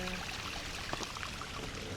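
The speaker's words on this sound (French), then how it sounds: "regarde, on est arrivé à ta cascade" A waterfall on a hiking trail in Réunion gives a steady, dense rushing roar, constant and fairly close throughout, with no voices over it.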